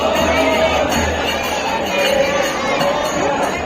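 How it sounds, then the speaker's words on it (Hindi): A dense crowd of devotees at the Barsana Radha Rani temple fills the air with steady chatter and calls, close and continuous, with faint bell-like tinkles in the background. "भीड़ बहुत है भाई यहाँ पे दर्शकों की, श्रद्धालु बहुत ज्यादा आए हुए हैं"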